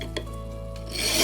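A fine file rasps across the end of a tapered steel clock pin held in a pin vise on a wooden block, beveling it; a brief scrape, then a louder, harsher rubbing stroke toward the end.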